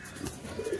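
A brief burst of low cooing comes from teddy pigeons kept for sale, close and fairly loud, with a rising coo near the end and no voices.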